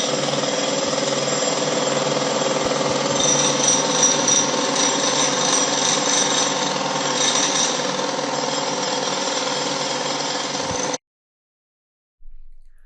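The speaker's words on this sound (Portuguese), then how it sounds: "vai fazer um barulho muito alto de construção agora, de marteladas" Loud, continuous construction racket from a jackhammer, a dense unbroken pounding roar lasting about eleven seconds, then abruptly cutting off before a brief return at the end.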